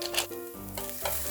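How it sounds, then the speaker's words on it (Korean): Carrots stir-fried in a pan for bibimbap give a short, bright sizzle with a light stirring scrape partway through, close and alone. "당근을 볶아주도록 할게요"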